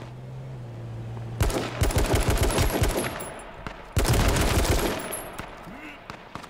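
Gunfire in the video game H1Z1: two loud, close volleys of rapid automatic shots, each lasting a couple of seconds with a short pause between, then trailing off.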